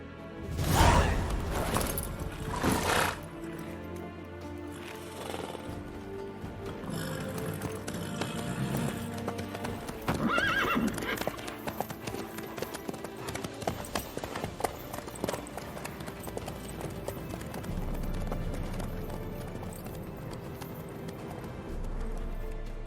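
Horse hooves clip-clopping steadily in The Witcher 3 game, with a sharp burst at the start and a continuous trotting rhythm layered over game music and ambience, no talking.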